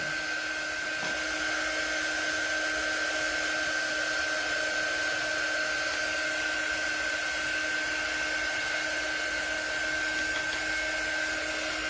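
A hair dryer blowing on a paper bee craft to dry it before framing gives a steady, unbroken whooshing hum with a thin whine, running throughout at moderate level.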